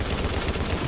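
Rapid automatic gunfire in The Division, a dense, steady burst of shots rattling on with no pause, loud and close throughout.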